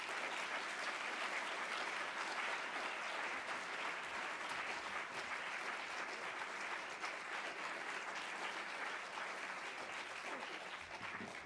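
Sustained audience applause at a neuroscience conference session, a dense even roar of many hands clapping that holds steady throughout without any speech.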